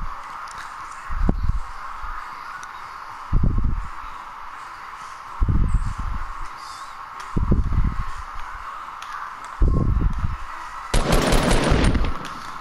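Gunfire in the Fortnite video game: five separate short bursts of shots spaced about two seconds apart, then a longer, brighter crackling volley at the end, all over a steady game background hum.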